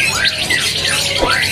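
A big male green leafbird (cucak ijo) at a bird-seller's kiosk gives sweeping, whistled squawking calls, continuous and fairly close over a busy background.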